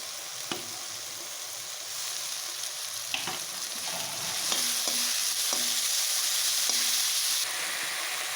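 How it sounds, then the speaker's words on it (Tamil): Tomato and capsicum sauté in a hot pan with a steady close sizzle, broken by repeated scraping clicks of a spatula stirring the vegetables. "தக்காளி நல்லா வதங்கட்டும். நல்லானா ரொம்ப வதங்க வேணும், ரொம்ப அளவாக. இப்போ குடமிளகாயை சேர்த்துக்கலாம்."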